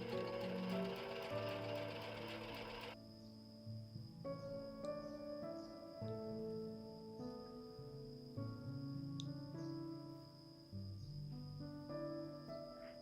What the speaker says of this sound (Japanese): なので残り2枚を今縫います。